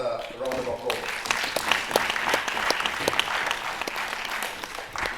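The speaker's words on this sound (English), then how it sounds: "let's give Justine another round of applause." An audience gives a sustained round of applause for a young girl named Justine at a candle light day event, dense steady clapping throughout with a voice speaking over it.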